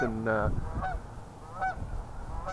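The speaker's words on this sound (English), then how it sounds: "we have geese flying up above." Canada geese honking as they fly overhead on a windy day, several loud nasal honks in quick succession near the start, then fainter scattered calls with a brief spoken word.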